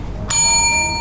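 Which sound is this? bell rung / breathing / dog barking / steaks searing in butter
bell rung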